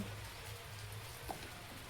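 Steady rain falls outdoors in a Thai farm setting where shallots are being cut for planting, a soft continuous hiss with no voices.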